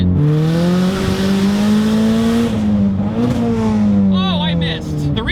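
Big-turbo Mazdaspeed 3 hot hatch with a 2-liter turbo engine accelerating hard, a loud rising engine drone that dips at a missed gear shift before revving again, with a brief squeal near the end.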